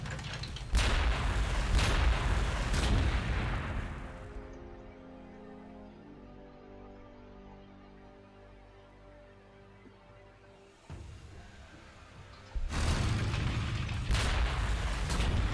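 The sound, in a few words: artillery fire in video game Warhammer 40,000: Gladius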